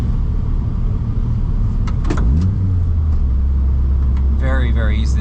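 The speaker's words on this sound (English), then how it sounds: "So much fun just to kind of get those little squirts of acceleration." Lotus Elise sports car engine heard from the driver's seat, a steady close rumble that rises in a short burst of acceleration partway through, with some cabin rattles over it.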